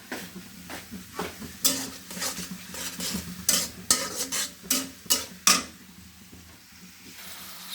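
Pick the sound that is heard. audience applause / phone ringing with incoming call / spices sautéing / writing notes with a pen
spices sautéing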